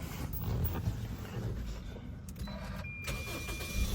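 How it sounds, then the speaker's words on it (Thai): A 2012 Toyota Altis 2.0V engine cranks and rumbles steadily, loud and close, with a low roar throughout. "เดี๋ยวเราลองมาสตาร์ทรถกันนะครับ"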